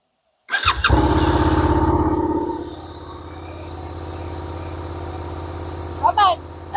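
A 2024 Suzuki SV650 roadster fires up with a sharp start, then settles into a steady, close idle throbbing alone for several seconds, with brief voices near the end.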